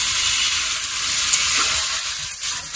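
Close, steady sizzling of mutton curry frying in a pan with a little water added, a bright continuous hiss with faint stirring touches.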